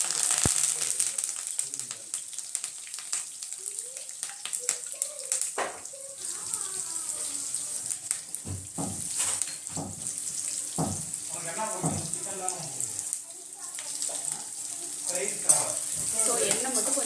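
Two dry red chilies sizzling in plenty of hot oil for pepper chicken, a steady hiss with scattered pops and crackles running throughout, fairly quiet and unbroken.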